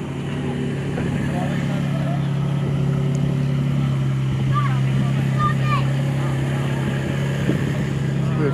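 Porsche 997 Turbo driving away from a Cars and Coffee meet, a steady engine drone and hum at moderate distance under outdoor background noise.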